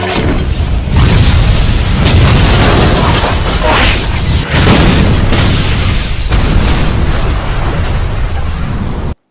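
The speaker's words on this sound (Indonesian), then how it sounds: "Jong-suk tewas oleh sebuah ledakan yang berasal dari tabung gas" A gas cylinder explodes in a film, a loud, dense roaring blast that rumbles continuously for about nine seconds, with fresh bursts and crackling debris surging partway through before it cuts off abruptly.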